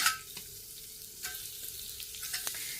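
Sweet potato pieces hit a hot pan and fry with a steady close sizzle, broken by a few sharp crackles and stirring scrapes, no voices.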